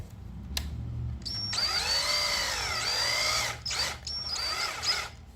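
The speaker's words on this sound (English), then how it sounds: "And I use a good high-speed steel drill bit" A power drill with a high-speed steel bit bores into metal while working on a camshaft and lifter setup, a loud whining run with rising and falling pitch, a brief stop, then another short burst, close up.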